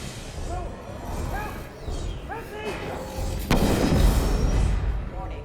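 A single heavy gunshot booms out midway through a Mass Effect 2 game scene, with in-game voices and ambient game sound around it.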